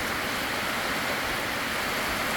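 A downpour of heavy rain at a Thai village house, a dense, unbroken hiss of falling water, even and fairly loud from start to finish with no talking.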